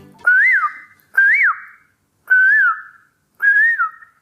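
A woman whistles an imitation of the Asian koel's call, four separate rising-and-falling notes spaced about a second apart, clear and close with silence between them.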